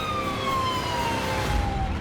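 Siren on an emergency vehicle carrying a woman to the hospital, a loud wailing tone sliding slowly downward across the clip, close and unbroken, alone with no speech.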